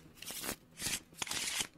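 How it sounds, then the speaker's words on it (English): A deck of Monopoly cards is shuffled in three quick riffling bursts, crisp papery rattles close by with short gaps between them, no speech. "I'll shuffle the special cards in the community chest and the fucking other one"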